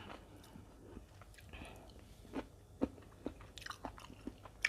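Close, quiet bites and chewing of fresh eggplant eaten alongside Southern Thai rice noodles with fish-organ curry, a few soft crunches and moist mastication clicks over low background.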